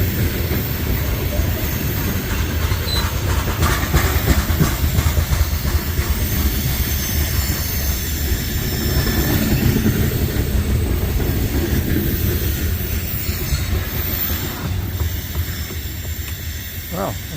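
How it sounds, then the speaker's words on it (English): A long freight or passenger train rolls past a trail crossing on the Appalachian Trail, producing a steady, loud, close rumble of wheels and cars that holds for the whole stretch and eases slightly near the end. "looks like I have to wait for this train to pass"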